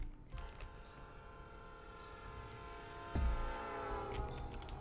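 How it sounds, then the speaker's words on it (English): Train departing in the Pokemon Reborn video game: a steady low rumble with layered tonal hum, brief high whistle-like accents, and a louder surge of low-end motion near the end, with no talking. "Train's leaving any minute."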